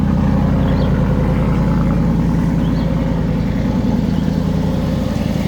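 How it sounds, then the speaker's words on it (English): Ford Mustang GT engine running at a steady idle, a loud, deep rumble with a constant low throb and no talk over it. "start the engine. Oh, just listen to that sound"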